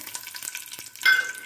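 Cashews dropped into hot ghee burst into a sharp, loud sizzle after a moment of soft stirring clatter.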